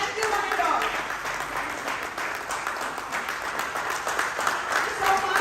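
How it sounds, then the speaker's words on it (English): An audience at a motivational talk event in the UAE breaks into applause, a dense, steady wash of clapping that fills the room for several seconds, with some voices mixed in. "Can I have a big round of applause to Skate Kilomedia?"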